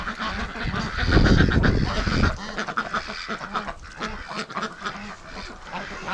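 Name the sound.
ducks quacking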